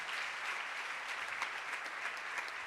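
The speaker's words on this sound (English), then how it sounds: "Give them a round of applause" Steady applause from an audience at a science quiz final on a college campus, an even, fairly faint patter of many hands lasting the whole stretch.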